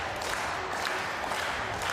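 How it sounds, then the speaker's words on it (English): A large indoor crowd claps and cheers at an athletics meet in Nehvizdy, heard as a dense, steady roar of applause filling the hall, with no clear beat standing out. "Asking for the rhythmic clapping"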